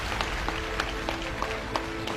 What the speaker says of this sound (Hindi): आप लोग एक बार दिल खोल के ताली बजाइएगा